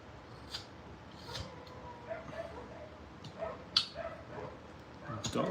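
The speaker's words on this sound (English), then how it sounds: "Dogs won't stop barking." Several dogs, one of them a husky, bark in short, scattered bursts at a distance, with yips and whimpers rising over a steady background hum and occasional talk.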